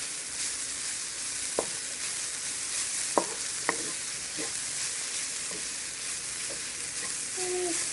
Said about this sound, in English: Stir fry it for about a minute, not too long.